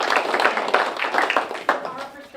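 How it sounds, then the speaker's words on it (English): Applause at a town board meeting: a room of people clapping steadily for a couple of seconds, fairly close, with murmured voices mixed in. "I think this LPC deserves a round of applause"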